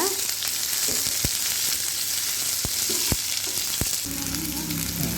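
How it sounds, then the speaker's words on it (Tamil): Continuous loud sizzling of mango pieces frying in oil, with a few sharp scraping knocks of a spatula stirring the pan, close up and no speech. "சேர்த்ததுக்கப்புறமா இதை நல்லா வதக்கி விட்டு எடுத்துக்கோங்க"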